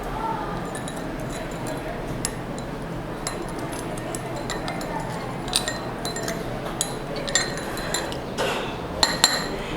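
A spoon stirs sodium chloride salt into water in a glass, producing light, irregular clinks and taps against the glass, with a few sharper knocks near the end and someone talking over it.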